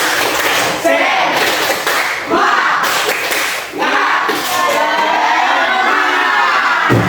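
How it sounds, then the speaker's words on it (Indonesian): Students in a middle school counseling class perform a rhythmic spirit clapping cheer together, loud bursts of group claps with shouting and cheering voices mixed in, close and lively throughout. "Oke, kita tepuk semangat semuanya dulu untuk masing-masing kelompok."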